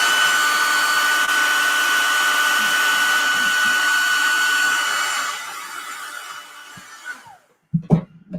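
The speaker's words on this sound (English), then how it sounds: "I'll hit it with a blow dryer." Loud blow dryer whirring steadily for several seconds, then winding down and stopping, followed by a few handling knocks.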